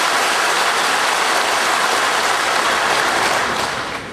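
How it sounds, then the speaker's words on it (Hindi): Applause from a large audience at a ceremony inaugurating World Toilet Day events in a memorial hall, a dense, loud, steady wash of clapping that fades slightly at the end, with no voices over it. "चलिए तो ताली बजा करके इसका समर्थन करिए तो पता चलेगा।"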